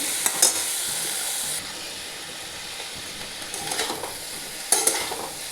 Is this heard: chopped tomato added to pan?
yes